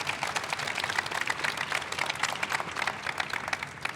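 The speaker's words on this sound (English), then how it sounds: "a round of applause" Audience applause at the opening of the National Environmental Museum for EPA Administrator Michael Regan, a steady wash of clapping that holds at moderate loudness for the whole stretch with no talk over it.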